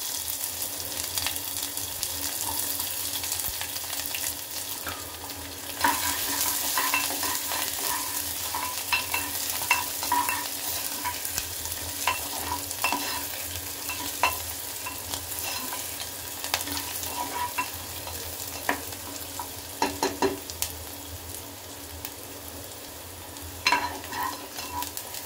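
Chopped onions sizzle steadily in a hot pan with green chilies, broadband frying hiss throughout, punctuated by occasional scrapes and clinks of stirring; no voices.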